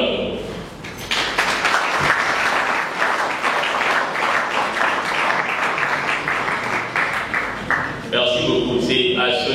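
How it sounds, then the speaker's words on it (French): An audience at a civic gathering for the Pona-Congo citizen network breaks into loud, sustained clapping and cheering after a brief quiet, with the applause rolling on for several seconds before a speaker's voice and music return. "on peut acclamer pour Pona-Congo?"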